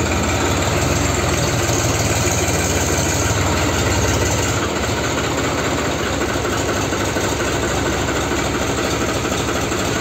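A loud, heavy tractor engine idles steadily with a constant low throbbing rumble, close by and unchanging throughout.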